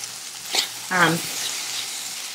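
Tofu with smoked paprika and red pepper flakes sizzling in a pan, a continuous soft hiss with brief louder bursts and faint stirring clatter.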